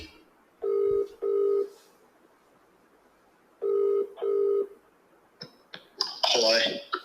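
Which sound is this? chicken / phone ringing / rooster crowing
phone ringing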